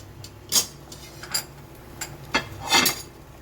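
A spoon knocks and clinks against a pot while stirring dhoka curry, several separate sharp taps spaced irregularly over a quiet background.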